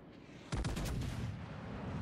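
Heavy battleship guns of the Amagi boom in World of Warships Legends, a loud salvo of several overlapping blasts starting midway and rolling into a sustained low rumble.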